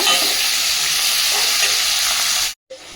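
Fresh curry leaves hitting hot oil in a pan, a loud continuous crackling sizzle that cuts out abruptly near the end before a faint return.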